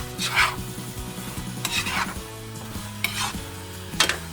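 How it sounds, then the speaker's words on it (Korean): Shrimp simmer and reduce in a sweet and sour sauce for kkanpung-style shrimp, with soft bubbling sizzle and a few brief scraping stirs of a utensil against the pan, close and moderately quiet, no talking. "양념 간이 배어들도록 서서히 졸여주는 거야"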